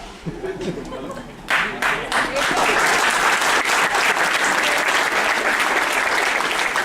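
A crowd claps for the cast after a comedy stage show, a quieter opening that surges into loud, dense applause from many hands continuing steadily to the end.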